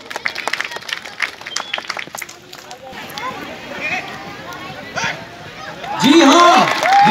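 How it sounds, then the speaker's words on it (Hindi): Spectators at an Indian Army horse riding show in Kishtwar clap in scattered bursts as a rider clears obstacles, with a commentator talking over the applause and a loud sweeping tone near the end. "जोरदार तालियां।"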